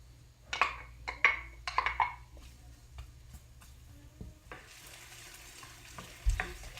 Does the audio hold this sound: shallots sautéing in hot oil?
yes